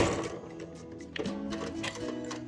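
Sewing machine back stitching through three layers of fabric on an iPad pouch, a steady close mechanical whirr with ticking needle strokes running throughout.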